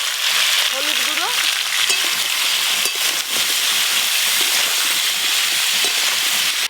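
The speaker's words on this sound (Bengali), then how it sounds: "আলু আর ফুলকপি তেলে একটু ভালো করে নেড়ে নেব।" Cut potatoes and cauliflower fry in hot oil, giving a loud, steady sizzle close up that runs unbroken throughout, with faint stirring scrapes underneath.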